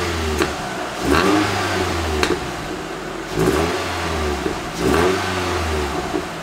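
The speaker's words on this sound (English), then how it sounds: "I like to rev it, because it pops on the exhaust, as some of you have heard, and I'll insert an exhaust clip here." A Nissan Spec V engine is revved repeatedly in several rising and falling bursts, with short crackling pops from the exhaust on the decel between revs, loud and close with no talking.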